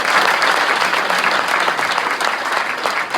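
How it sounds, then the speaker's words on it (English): A crowd at a high school football preview event gives the coaches a round of applause, a loud, dense, sustained wash of clapping from many people, steady from start to finish. "go ahead and give a round of applause"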